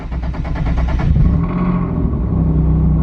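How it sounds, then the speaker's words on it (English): A single-turbo Nissan 370Z engine idles and revs loudly up close, with a rough, rapid puttering pulse from an exhaust leak that steadies into a low drone. "I'll go ahead and show you guys what a exhaust leak sounds like"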